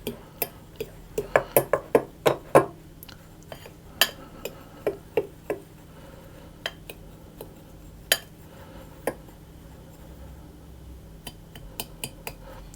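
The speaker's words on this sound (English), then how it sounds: "I'm going to stir those around and just get those mixed through." Flour, salt and sugar stirred together in a bowl for an apple crumble pie, heard as a run of sharp ticking clinks from a utensil against the bowl, clustered early and then spaced out, close and fairly quiet.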